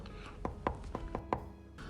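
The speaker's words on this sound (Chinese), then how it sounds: "接下来准备多一些的小葱，切成葱花。" A knife chops green onions on a cutting board in six or seven crisp, fairly regular taps at close range, with no talking.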